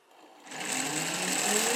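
A homemade brushless LEGO motor with 3-to-1 gearing works under load, its electric whine swelling from near silence after half a second into a steady, buzzing drone that holds to the end.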